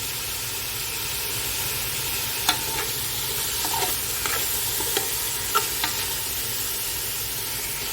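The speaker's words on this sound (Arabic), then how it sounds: "هسه حمسنا البصل مع الدجاج كل زين" Onion and chicken frying together in a pot give a steady, even sizzle with a soft hiss, broken by a few light clinks and scrapes of stirring. No one speaks.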